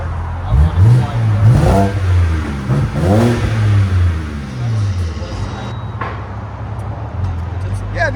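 A 2008 BMW 328i with a 3.0L inline-six and a Magnaflow Magnapack exhaust revs up and down in several rising and falling sweeps, fairly loud and close, with people talking over and between the revs.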